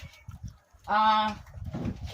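A bird calling outdoors during a fishing outing, one loud harmonic squawk mid-clip with faint voices and background sounds around it.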